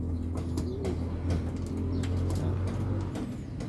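Young racing pigeons coo in a loft, a low, steady murmuring drone with soft repeated calls layered over one another, close and continuous, with a few brief wing flutters.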